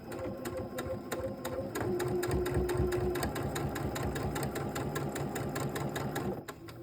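A sewing machine stitches a quarter-inch seam at a 1.8 stitch length, joining fabric triangles, running steadily with a rapid, even mechanical chatter close by for several seconds.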